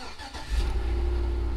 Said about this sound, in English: So now we'll try to start the vehicle